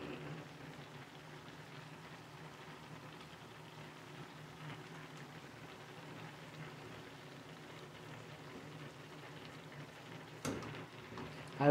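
Beef liver frying in a pan gives a steady, quiet sizzle and crackle throughout, heard close with a soft clatter near the end.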